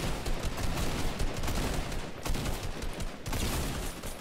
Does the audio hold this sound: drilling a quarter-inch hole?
no